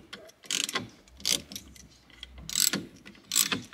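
A ratchet fitted with a custom-made socket clicks in repeated quick bursts while loosening the seat bolts in a Lamborghini Murcielago, several short ratcheting runs with brief pauses between, close and fairly loud.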